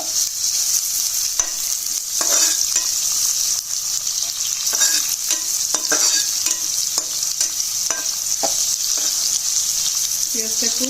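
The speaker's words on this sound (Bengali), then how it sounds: "পেঁয়াজটা একটু হালকা বাদামি করে ভেজে নেব" Chopped onion frying in a generous amount of oil, a loud steady sizzle with intermittent stirring scrapes throughout, close and without talk.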